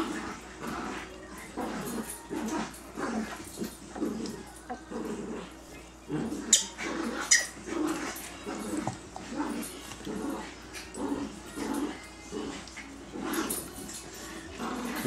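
A dog whimpers and lets out high, thin yips in uneven bursts, close by, with quieter indoor sounds and occasional movement between the cries.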